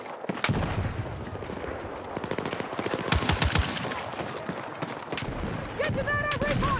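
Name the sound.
submachine gun firing in video game Battlefield 6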